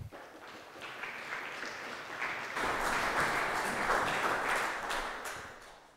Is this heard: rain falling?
no